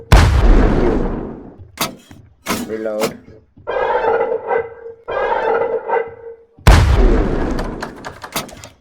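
Loud booming cannon blasts open and close the clip, with bursts of Piggy video game sound effects and a voice talking in between.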